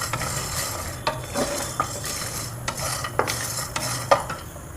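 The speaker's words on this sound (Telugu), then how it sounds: "నేనైతే వీటిని డ్రై రోస్ట్ చేస్తాను అనమాట." Ingredients are dry roasted in a pan with a soft, continuous sizzle, and a spoon scrapes and clinks against the metal every second or so, close and alone without talk.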